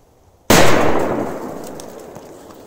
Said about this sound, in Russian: Берем каких-то мощных петард забахать